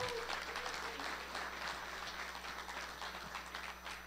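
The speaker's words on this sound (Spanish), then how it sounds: "Dese un fuerte aplauso a usted mismo." Listeners at a religious fellowship gathering applaud, a soft, continuous patter of clapping heard at a distance under a steady low hum, fairly faint throughout.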